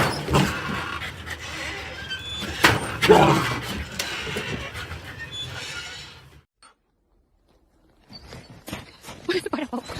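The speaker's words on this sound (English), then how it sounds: "Your dog's drinking your ice cream." Dog panting quickly and loudly up close, with clinks and scuffs mixed in, then a brief silence before more noises; people talk over it.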